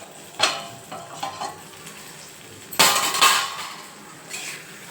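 A spoon stirs a green tomato dish in a pan after it has cooked covered, giving a low sizzle with several bursts of scraping and clattering against the metal, loudest near the middle.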